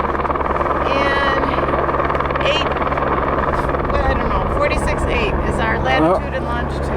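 A helicopter drones steadily and loudly through the whole stretch, its low rotor and engine roar constant while people talk over it at high altitude in the mountains.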